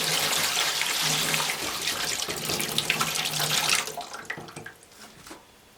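Water pouring into the tank of an AIRCARE humidifier, a loud continuous splashing gush for several seconds that thins out and trickles away toward the end.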